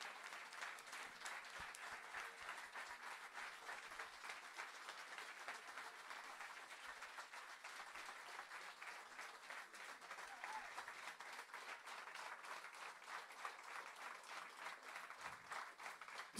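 A live show audience applauds steadily and fairly loudly throughout, a dense wash of many hands clapping without pause.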